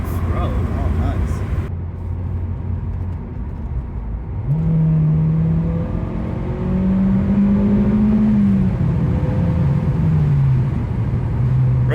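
Interior of an Acura RSX Type-S while driving, the engine droning low then climbing through a rising rev with a gear change, rumbling under a steady cabin hum as people talk.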